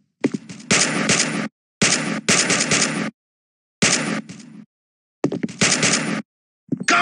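Rapid bursts of automatic gunfire from the Toon Royale.io mobile shooter game, loud and close, arriving in several separate volleys with short silent gaps between them.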